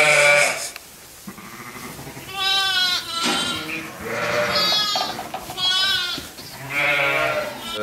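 Sheep bleating in a sheepfold at lambing time, one of them a young future ram; repeated loud, wavering bleats come close by in several separate calls, with a rustling barn background between them.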